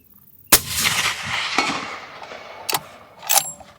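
A rifle fitted with a KGM 338 suppressor fires outdoors: one sharp, loud suppressed shot with a long rolling echo, followed by two fainter distant reports or impacts, with no talking.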